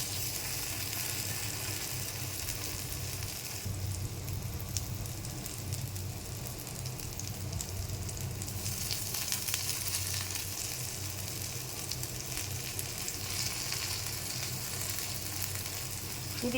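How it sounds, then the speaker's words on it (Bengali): Prawn fritters fry in a spoonful of oil in a frying pan, giving a steady, close crackling sizzle that continues unbroken with no voices. "আমি ফ্রাই প্যান দিয়ে বড়ার আকার করে 1 চামচ তেল দিয়ে ভাজা দিয়েছি।"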